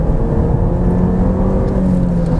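Ford Mondeo 160 PS accelerating at full throttle, a loud, sustained engine drone with steady rising revs heard close from inside the car.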